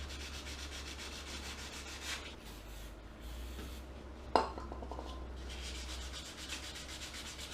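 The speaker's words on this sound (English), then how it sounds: "Just sand these up, it will help it start the mower a little easier." Gentle, steady rubbing of sandpaper over ignition parts of an old lawn mower, a continuous soft scratchy hiss with a brief metallic tap midway, close and quiet.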